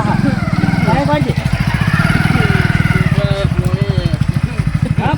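A motorcycle engine runs close by with a steady low chugging throb, while people talk over it throughout.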